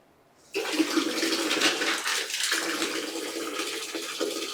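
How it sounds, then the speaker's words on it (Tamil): Water bursts from a tap after a brief silence and keeps gushing steadily, a close, continuous splashing rush that runs on without talk. "பார்த்தீங்களா, தண்ணி வருது."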